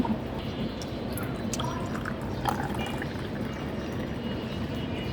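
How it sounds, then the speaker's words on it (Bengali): Freshly blended lassi is poured into a glass, a steady liquid trickle with faint drips and light clinks running continuously at close range, no one speaking. "আর এখন আমি এটা ঢেলে নিব।"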